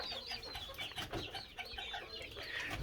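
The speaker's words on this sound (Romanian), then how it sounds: "puișorii de păuni, ia uitați ce frumoși sunt" Peacock chicks about six weeks old peep and chirp continuously at a farmyard in the Romanian countryside, dense overlapping high calls close by with no talk.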